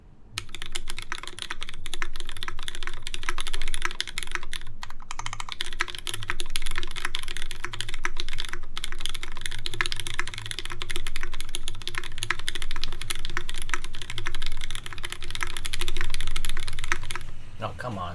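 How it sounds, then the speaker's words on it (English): Lubed Cherry MX Black clear top switches clatter under steady typing on a custom mechanical keyboard, with dense, continuous keystrokes and a few short pauses over a faint room background. "let's type on this for a bit and wrap it up. Alright, so these are Lubed Cherry MX Black clear top switches."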